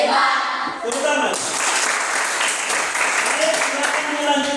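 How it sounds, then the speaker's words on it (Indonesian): A class of eighth-grade students claps together in a classroom, a dense, steady patter of many hands lasting a few seconds, with voices mixed in over the clapping. "Tepuk tangan."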